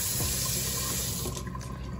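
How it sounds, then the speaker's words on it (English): A deep kitchen sink faucet in a luxury apartment runs steadily, water streaming into the basin with a continuous broadband rush and no voices over it. "turn the water on."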